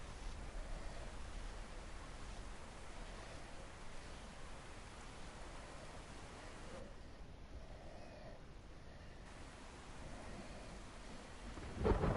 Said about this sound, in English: I'm going to do a reset to stop the rain